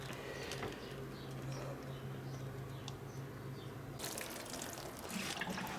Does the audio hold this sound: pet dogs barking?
no